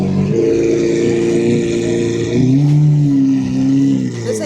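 Car engine revving at a supercar rally meet, a close, loud, sustained drone with rising and falling pitch, shifting higher partway through.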